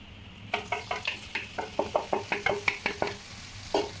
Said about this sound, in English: now we're going to cook the mushroom, cabbage and carrot until it softens.